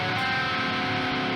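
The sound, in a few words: electric guitar playing dominant 7 shell chord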